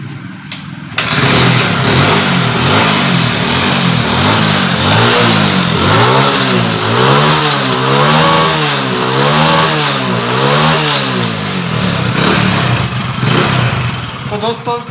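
A Honda CD Deluxe motorcycle engine cranks and catches after about a second, then revs up and down in repeated swells before settling into a loud, close idle, with some talking over the engine.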